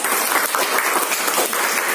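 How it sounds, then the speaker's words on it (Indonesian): Students in a classroom give a short round of applause, a brief, dense burst of close clapping with no talk over it. "tepuk tangan untuk anak Bapak semuanya"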